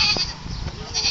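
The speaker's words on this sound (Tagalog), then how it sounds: "AJ, goat" A farm goat gives a single short bleat at close range, filling most of the brief moment with a wavering nasal cry.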